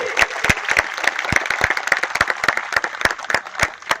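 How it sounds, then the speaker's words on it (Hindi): A large crowd at a motivational public gathering claps loudly for itself, sharp individual claps standing out close and bright over a dense, steady wash of hands for about four seconds, with no talk on top. "एक जोरदार ताली अपने लिए"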